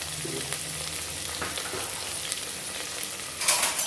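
Steady frying sizzle from onions sautéing in a pan for mushroom biryani, a continuous close hiss with occasional stirring scrapes and a louder burst near the end.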